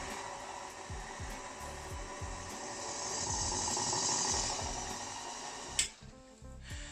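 Electric mixer running at low speed, gently folding a coconut cake batter, a steady continuous whir with a faint rhythmic ticking that holds throughout, then a brief clatter near the end as it stops.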